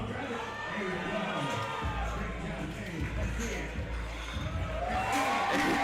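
A crowd at a USA Powerlifting meet cheers and shouts with a loud, sustained roar, growing louder toward the end, with voices audible among the noise.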